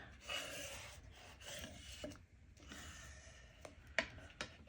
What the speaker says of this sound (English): we're going to pull the flap over and seal it up